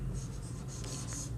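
Pen scratching steadily on paper while a math equation is written, close and continuous, with faint room hum beneath.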